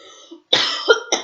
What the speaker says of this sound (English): I keep wanting to cough this morning,